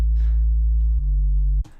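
Synthesized square-wave sub bass for a melodic drum and bass track, playing one deep sustained note that shifts slightly in pitch partway through, loud and alone, with a faint buzzy upper edge before it stops.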